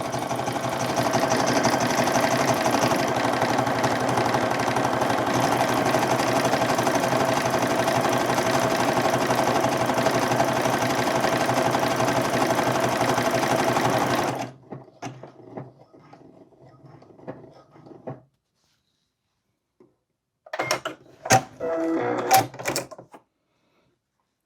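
A sewing machine stitching a buttonhole on swimsuit fabric runs steadily and loud for about fourteen seconds, then stops; faint handling clicks and a few short rustles follow.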